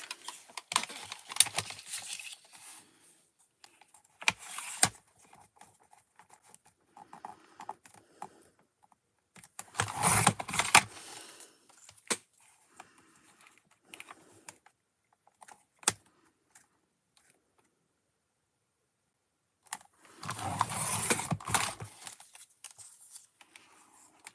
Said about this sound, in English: So I'll use my paper trimmer then.